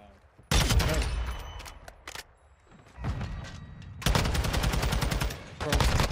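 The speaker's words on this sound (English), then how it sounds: "What was that gunfight, bro?" Gunfire rattles through a Call of Duty: Modern Warfare II gunfight in loud, rapid automatic bursts separated by brief gaps, the sharp volleys dominating throughout with voices faintly underneath.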